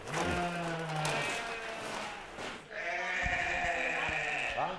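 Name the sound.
sheep bleating on small island farm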